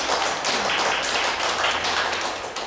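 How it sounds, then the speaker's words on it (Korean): An audience claps at a televised debate on the earthquake safety of the Kori nuclear power plant, a dense, steady wash of applause that stays loud throughout and tapers slightly at the end. "큰 박수 부탁드리겠습니다."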